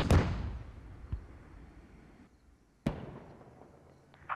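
Gunfire in a combat video game battle at Yehorivka: a sharp loud shot followed by a few scattered fainter bangs, spaced apart with quiet gaps and a steady low background hum.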